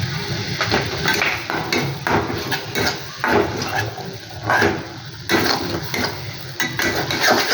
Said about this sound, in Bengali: সয়া সসটা দেওয়ার পর একটু ভালো করে নাড়াচাড়া করে